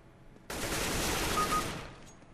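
Gunfire in the game CS:GO: one dense, loud burst of shots lasting just over a second, cutting in abruptly and then stopping, with no talk.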